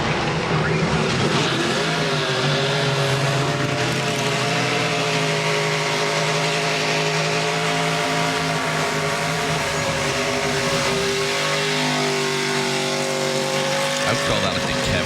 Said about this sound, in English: I would call that like the Kevin Harvick burnout.